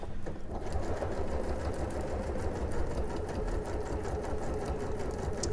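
A sewing machine stitches steadily at close range, a fast continuous mechanical whirr and rattle with no pauses.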